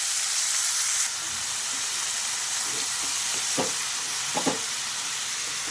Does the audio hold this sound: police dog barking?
no